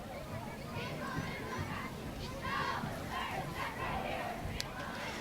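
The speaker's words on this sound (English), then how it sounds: "They're the Panther cheerleaders. Still keeping this crowd excited here in the fourth quarter" Cheerleaders lead chants and a crowd roars at a fourth-quarter high school football game between Belgrade and Fergus, a continuous, fairly distant mass of voices.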